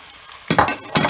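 Chopped onions drop into hot oil in a pan and start sizzling, with two short bursts of frying hiss and a faint clink of a utensil, close and fairly loud.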